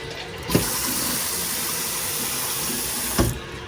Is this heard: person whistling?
no